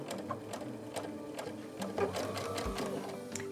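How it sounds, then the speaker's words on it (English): Sewing machine stitching pieced quilt fabric right up to a pin, running in a steady rapid rhythm of needle strokes, close and moderately loud with no talk. "Stitching up to the pin, not actually sewing through it, and then sliding it out."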